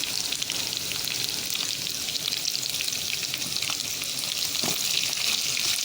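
Onions frying with salt in a pan give a steady, close, dense sizzle that runs unbroken throughout, with a few faint stirring knocks and no voices.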